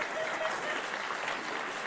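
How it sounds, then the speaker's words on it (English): Audience cheering and applauding, a dense wash of clapping at moderate distance, steady through the short stretch, with a voice faintly present. "They cheer on this stuff."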